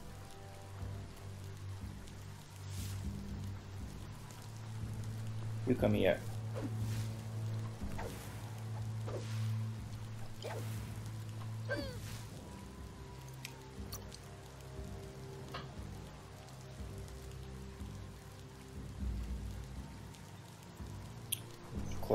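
Rain in the game Biomutant, a faint continuous patter and drip under a low droning ambience, with a short line of speech and occasional louder splashes.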